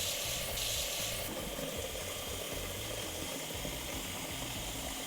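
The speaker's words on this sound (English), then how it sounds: "So let's add our water." Water poured from a container into a pot of dried beans makes a steady, continuous splashing rush that stays fairly even and close throughout, with no talking over it.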